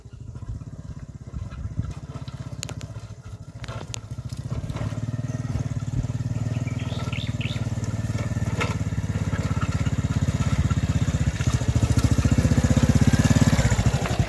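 A small Honda Revo X motorcycle engine drones steadily while riding over a rough, rocky village road, with crunching and rattling from the ground throughout. Nobody speaks.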